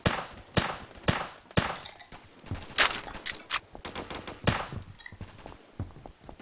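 Repeated sharp gunshots from long-range sniper rifles in a Roblox shooting game, a string of loud cracks spaced roughly every half second with some overlapping shots and game noise between them.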